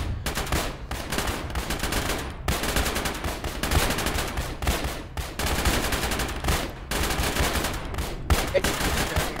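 Sustained bursts of rapid gunfire from an ARMA military battle, loud and dense with short gaps between volleys, repeating steadily throughout.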